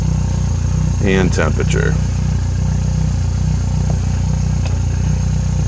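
A Yamaha F70 outboard engine runs steadily on a pontoon boat, a constant low mechanical drone and hum throughout, with someone speaking briefly over it near the start.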